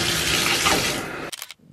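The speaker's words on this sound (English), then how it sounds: "I'm a little sweaty, so I'm gonna go ahead and take a shower" Shower water runs in a loud, broad continuous hiss, then cuts off abruptly into a few brief splashes and drips.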